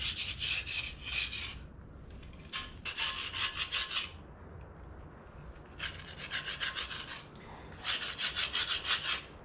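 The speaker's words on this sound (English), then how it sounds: "I'll get the thicker stuff off with this chisel here" Steel chisel scraping thick packed dirt and oil off the cast front weights of a 545A backhoe, in repeated rasping bursts of strokes with short pauses between, close and loud.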